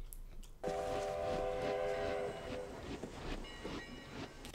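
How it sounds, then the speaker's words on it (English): An old steam train sounds a sustained, loud whistle blast over rumbling wheels and clattering rails, the whistle fading out midway while the heavy rolling noise continues. "The train!"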